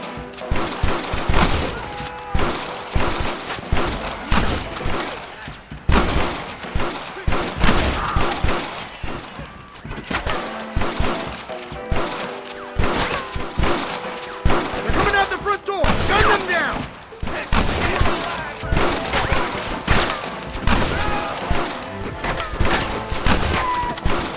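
A Red Dead Redemption shootout rattles with dense, repeated gunfire, sharp cracks and splintering wood hits bursting irregularly throughout, while voices shout over the battle.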